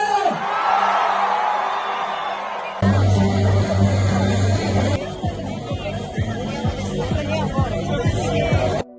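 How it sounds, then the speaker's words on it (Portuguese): Crowd at a political rally shouts and yells loudly over a busy hubbub, with whoops and a brief shift in sound partway through. "Tira fora o Moraes, dá um grito aí!"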